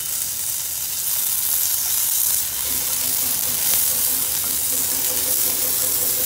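Ginger garlic paste and onion sautéing in a pan for white rice, giving a steady close sizzle with a soft frying crackle that runs unbroken throughout, no talk.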